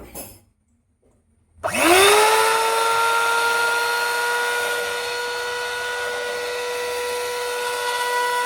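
An electric blender or mixer churns curd into butter for homemade ghee. After a short silence the motor starts abruptly, then holds a loud, steady whine with a strong pitched hum, running alone with no talk.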